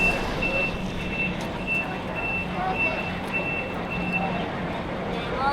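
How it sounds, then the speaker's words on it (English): A bus pulls away at an airport bus area, with steady reversing beeps repeating over a loud, continuous engine rumble and surrounding traffic noise. "the bus is going."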